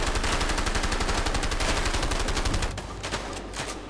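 Rapid automatic gunfire from the video game A Way Out, a dense loud burst of shots that stops abruptly near the end, leaving quieter background sound.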